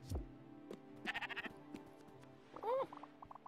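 Sheep in the video game Spiritfarer bleat several times, including a clear wavering bleat near the end, mixed with soft game tones and short clicks and no talking.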